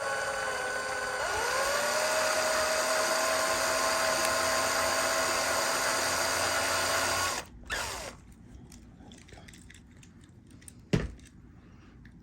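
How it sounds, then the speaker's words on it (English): A small electric drill whirs steadily for several seconds, its pitch rising as it spins up, then cuts off abruptly, followed by a sharp click. "it's a home style drill."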